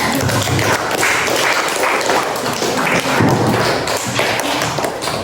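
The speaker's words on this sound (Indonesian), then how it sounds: "Ya, tepuk tangan dulu." Students in a classroom clap together, a dense, steady burst of applause at fairly close range that keeps going for about five seconds without letting up.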